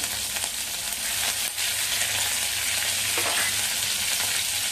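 Cumin, mustard seeds and curry leaves sizzle and crackle in hot oil in a pan, a loud continuous hiss with scattered pops and spatters close by, with no voices.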